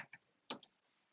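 A few quick, quiet key presses on a computer keyboard, small separate clicks in a short burst while typing a command.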